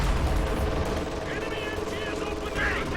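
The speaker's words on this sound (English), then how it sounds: "Jagdpanzer trying to fire on the Scott through the centre." Battle din from Company of Heroes 2 as a Jagdpanzer tank destroyer fires: a steady, rumbling mix of heavy gunfire and mechanical clatter, loud throughout, with a faint voice in the background.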